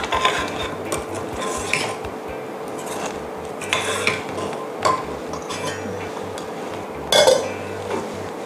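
A chili coconut sauce being stirred in a pot for Thai snakehead fish: repeated close clanks and scrapes of a metal spoon against the pot, uneven in rhythm, over a low background hum.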